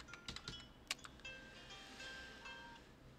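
Code being typed on a computer keyboard: a quiet, close cluster of irregular key clicks with a louder tap near the start, followed by a faint hum and a few soft tonal beeps, with no talk.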